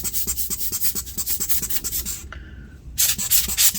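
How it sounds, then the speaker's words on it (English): A brush sweeps dust off the internals of a Dell Latitude 3540 laptop in quick, rhythmic scratchy strokes with one short pause, close and fairly loud. "So I'm gonna just brush it off into the trash can to my side"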